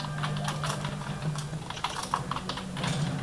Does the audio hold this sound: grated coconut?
no